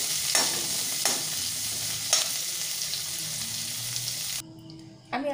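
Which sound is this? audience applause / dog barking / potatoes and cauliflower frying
potatoes and cauliflower frying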